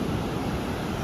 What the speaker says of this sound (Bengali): সমুদ্রের আওয়াজ